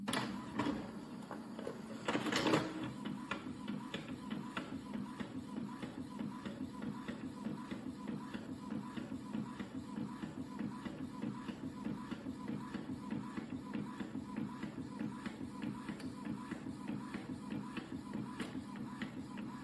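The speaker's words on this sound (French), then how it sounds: "Je mets imprimer." An inkjet-style home printer prints a Cricut calibration sheet, giving a steady low mechanical whir and shuffle with a brief louder paper-feed clunk near the start; quiet and continuous, with no voices.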